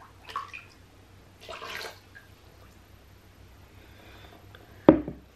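Water is poured and handled for a diaper absorbency test, giving a couple of soft, short splashing pours amid quiet room tone, then a sharp knock near the end.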